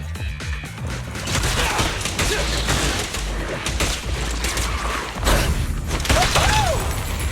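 Rapid gunfire bursts from the video game Zenless Zone Zero crackle amid heavy in-game combat effects, booms and crashes, with a character's voice briefly rising near the end.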